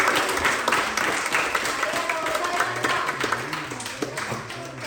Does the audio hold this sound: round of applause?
yes